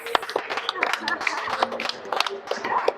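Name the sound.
audience clapping for the band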